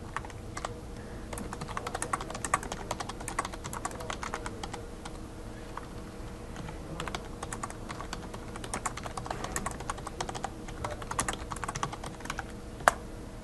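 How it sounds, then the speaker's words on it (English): Typing on a computer keyboard, a rapid, uneven stream of light key clicks with short pauses between bursts, close and clear, continuing steadily for over ten seconds with no voices. "So I'll go ahead and type in a message"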